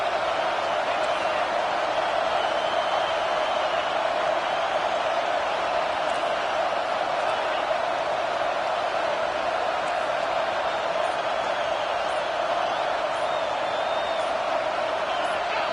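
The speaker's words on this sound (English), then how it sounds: "And with this place rocking, the crowd forces a false start." Roaring stadium crowd at an NCAA college football game, a loud, steady wall of cheering and noise sustained throughout as the home fans force a false start on fourth down.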